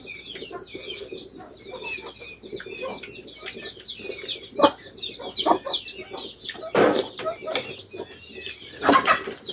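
Chickens cluck and call in a rural home yard, short repeated notes scattered throughout alongside rustling, wing flaps and other nearby activity, moderately close.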